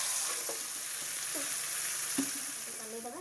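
Chicken pieces sizzle in hot oil for an Odia village biryani, a steady bright hiss with occasional soft pops and stirring clicks, close and unbroken, no talking.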